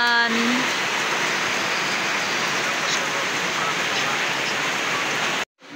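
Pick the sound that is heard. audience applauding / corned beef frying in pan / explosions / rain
rain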